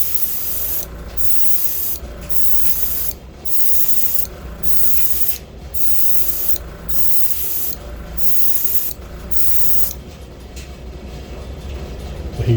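Repeated short bursts of spray paint over a stencil, applied as a second coat of burnt orange paint, hiss in an even rhythm of about eight close, loud puffs separated by brief pauses, with no talking.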